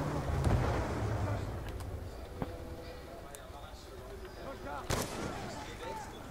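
Muffled video-game gunfire rattles and booms at moderate distance, with a few sharper shot cracks and impacts, under a continuous low game soundscape.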